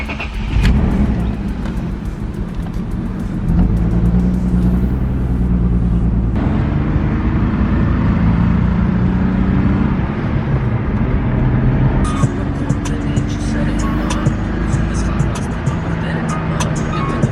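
A BMW E36 M3 on the road, heard from inside as a loud, continuous engine drone and road roar that rises and falls gently as it drives.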